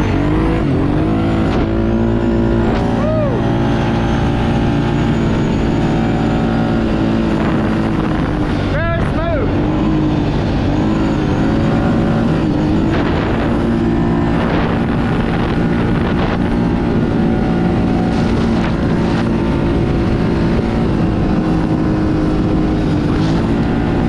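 A Kawasaki Brute Force 750 ATV engine pulling hard through fish-tailing power slides, a loud close continuous drone rising and falling under heavy wind buffeting on the microphone.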